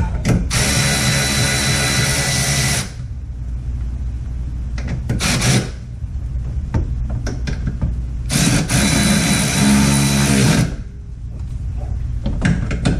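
A power tool runs on a 2005 Chevy Corvette, tightening 10mm bolts at the front bumper: two loud, steady bursts of whirring several seconds long, separated by a stretch of quieter shop noise and small clatter.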